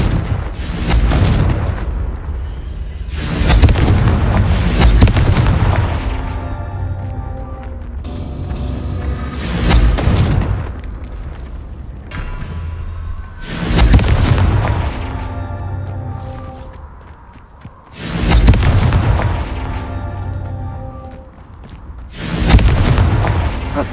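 Repeated Confringo spell blasts in the Hogwarts Legacy video game land as loud, booming explosions roughly every five seconds, each a heavy impact that rolls off into a rumbling decay, with no talk.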